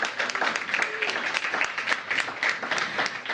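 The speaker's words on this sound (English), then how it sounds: "Please give them a round of applause." Audience applause at a mayoral event in Washington, DC launching Text to 911, a steady wash of many hands clapping throughout, fairly close and even, with no talk over it.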